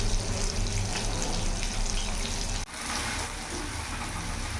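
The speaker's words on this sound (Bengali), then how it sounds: "এখন ভালো করে ফুটতে দেবো।" Egg biryani rice boiling in a pot, a continuous loud bubbling, rushing water sound that dips sharply for a moment midway, then carries on at a slightly lower level.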